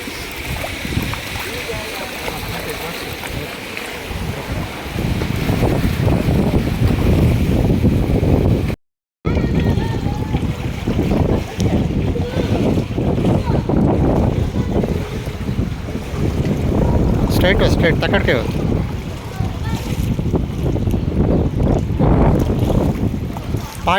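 Heavy rain in Sharjah roars as a loud, dense, continuous hiss, with people talking over it throughout.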